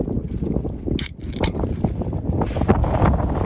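Gusty wind buffets the microphone in a low continuous rumble, with a few sharp rattling knocks near the start.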